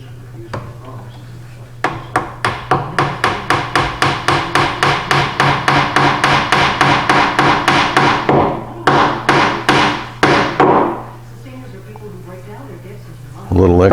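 Hide-glued wooden drawer runners being driven in for a Queen Anne lowboy: a rapid series of about thirty sharp, close hammer blows in quick rhythm, a brief pause, a few more strikes, then quiet, with a low steady hum under it.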